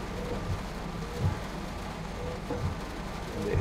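Stormy rain in the Train Sim World 2 video game, a steady, soft hiss of falling rain with faint low rumbles, continuous and even, heard with no talking.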